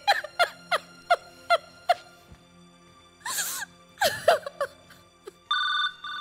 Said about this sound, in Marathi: अरे कुणाचा फोन हा वाजतोय?